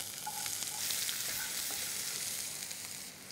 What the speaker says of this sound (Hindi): इसे अब हमें लाइटली सौते करना है। जीरा भुन गया, इसमें जाएगा अनियन,